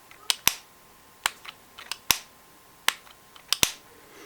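Several sharp plastic clicks from the lid of a cheap LF-i11 wireless earbuds case, a knockoff of AirPods without a magnet, snapping shut. The clicks come close up in irregular pairs and singles over a quiet background.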